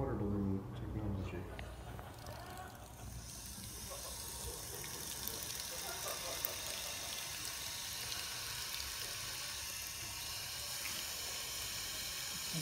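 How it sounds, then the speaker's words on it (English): Tap water rushes continuously into many water balloons filling at once. The broad, steady splashing hiss lasts throughout, and talk can be heard faintly at the start. "Modern balloon, water balloon technology."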